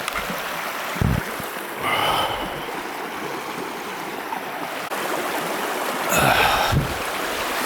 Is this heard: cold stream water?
yes